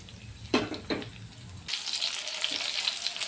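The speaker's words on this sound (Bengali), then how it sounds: "গ্যাসের ফ্লেমটা একটু কমিয়ে দিয়ে মিডিয়ামে রেখে ভাজবে" Mochar chop, banana flower chops, deep fry in oil over a medium flame. A couple of loud clatters come first, then a sudden, bright, steady bubbling sizzle takes over and continues, close up and with no voices.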